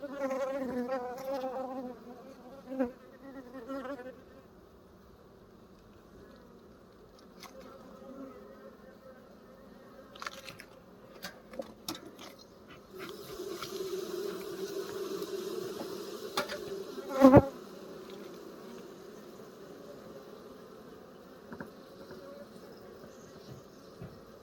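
Honey bees buzz steadily around an open beehive, a soft continuous drone with individual bees passing close by, and occasional knocks and scrapes from hive work.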